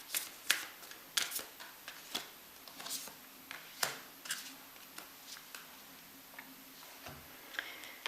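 Oracle cards are shuffled by hand in a series of quick, quiet riffles and taps, irregular soft bursts heard close up and fairly faint, with no talking.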